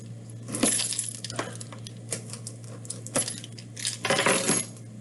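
Car keys scrape, tap and clink against a plastic-wrapped baseball card box as the wrapper is cut open, a string of sharp close rattles and scratches with a steady electrical hum underneath.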